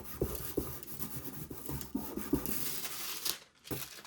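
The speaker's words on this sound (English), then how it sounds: "I'm gonna rub it with my fingertips" Fingertips rub metal leaf onto a raised stencil texture, giving a soft continuous scratchy friction with a few slightly sharper strokes, close and fairly quiet, with no talking.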